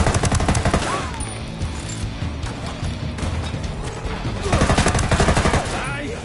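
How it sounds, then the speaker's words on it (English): Heavy automatic gunfire from the video game Ghost Recon Wildlands, loud and continuous rapid bursts with crashing impacts, intensifying toward the end. "Opening fire!"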